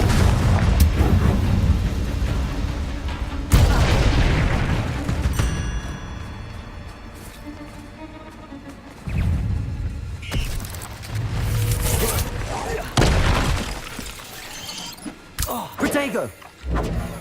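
Confringo fire spell explosions in the Hogwarts Legacy video game land as repeated booming, thudding bursts, with loud blasts near the start, middle and end over a dense bed of in-game effects and music.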